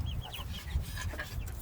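Baby chickens cluck and peep close by, with a quick scatter of small chirps over a soft low rumble of background noise.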